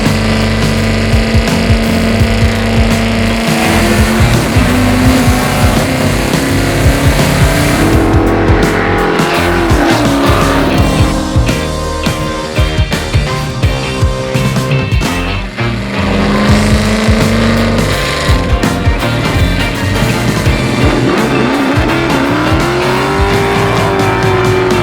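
A garage-built 1972 Plymouth Duster set up NASCAR-style roars loudly throughout, its V8-type engine revving up and down in repeated pulls with occasional tire squeal, close and continuous with no talk.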